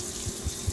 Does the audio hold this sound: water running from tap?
yes